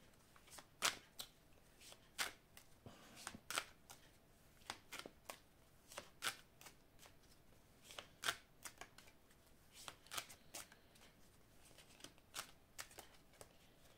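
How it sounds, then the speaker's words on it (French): Oracle cards of a love oracle deck are shuffled and cut by hand, producing a run of soft, crisp riffling slaps at irregular intervals, quiet and close with no talking. "on va couper et on va recouvrir les cartes"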